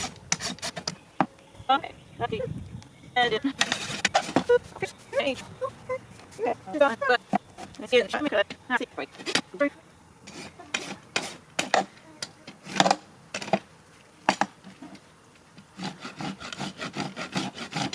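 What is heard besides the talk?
rasp filing a horse's hoof during trim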